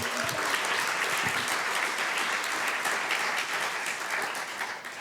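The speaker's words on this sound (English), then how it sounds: "Let's give them all a round of applause." An audience at a talk on recovering cultural narrative bursts into steady, full applause, a thick wash of clapping that stays even before easing slightly at the end.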